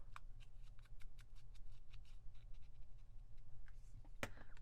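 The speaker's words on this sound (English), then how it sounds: "I'm going to ink its edges" Soft scratchy dabbing and brushing strokes of inking the edges of a fussy-cut paper piece, a quiet run of short close taps and swishes with a sharper click near the end.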